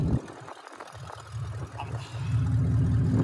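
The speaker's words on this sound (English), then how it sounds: "We got a loud truck." A Ford F150 pickup truck engine running close by, a low rumbling idle that builds louder toward the end, with people talking over it.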